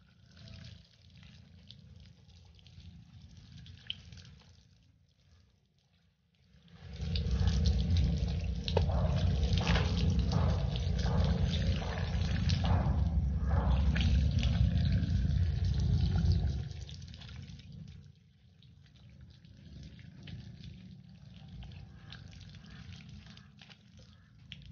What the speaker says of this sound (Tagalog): Dumadaloy siya sa tubo ng tubig.